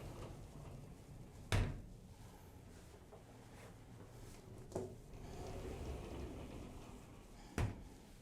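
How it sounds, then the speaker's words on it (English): A double mirrored closet door in a Las Vegas hotel room slides and bumps, with three sharp knocks spread across a quiet room and soft rumbling movement between them, close by and with no talking. "this is a double mirror door."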